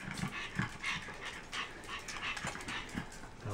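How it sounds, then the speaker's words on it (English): A dog gives a series of short, repeated barks at close range, about five or six spaced through a few seconds, with no talking over them. "She's going to start barking at her."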